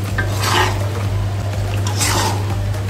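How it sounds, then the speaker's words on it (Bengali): Duck meat being stir-fried in a pot over low heat with cornflour and soy sauce for a dark kala bhuna, a spatula scraping and stirring in two clear bursts over a steady low hum and faint sizzle. "আমি আস্তে জালে হাঁসের গোশগুলো কষিয়ে নিচ্ছি"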